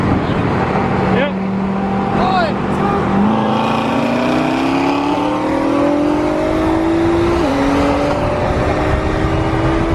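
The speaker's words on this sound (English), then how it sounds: "We're gonna try and run this ZR1 right here." Corvette ZR1 on a street racing run roars loudly throughout, engine pitch climbing steadily through the gears with short drops at each shift, heard close from inside or near the car.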